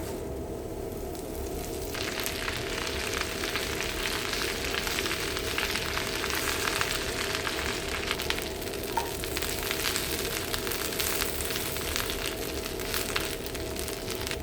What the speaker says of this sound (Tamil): இப்போ கருவேப்பிலை போட்டு பொரித்து எடுத்துக்கலாம்.